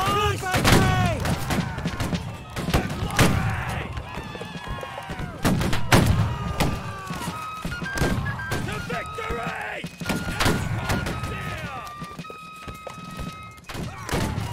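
Musket volleys and scattered rifle shots in the Civil War game Battle Cry of Freedom, sharp reports and thuds ringing out at irregular intervals amid shouting soldiers and voices giving orders.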